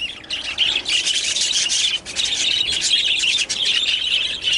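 Busy, continuous chirping and twittering from several budgies, close by and fairly loud, with no pauses or talking.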